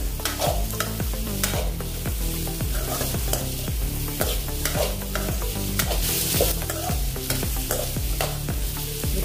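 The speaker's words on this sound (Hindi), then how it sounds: "अभी इसमें हमने गाजर डाल दिया है, शिमला मिर्च डाल देंगे और पत्ता गोभी डाल देंगे। अच्छे से मिक्स कर लेंगे।" Carrot, capsicum and cabbage are stir-fried in a pan for veg Manchurian, giving a steady loud sizzle with repeated rhythmic scraping and stirring strokes throughout, no voices.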